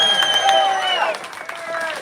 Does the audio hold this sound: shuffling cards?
no